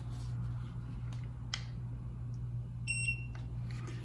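A Dyson non-contact forehead thermometer gives a short electronic beep, clear and close, over a steady low hum and quiet room noise.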